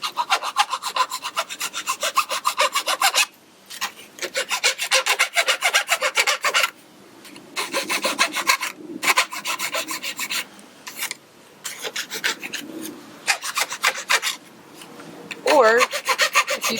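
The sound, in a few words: filing aluminum patch with a mill file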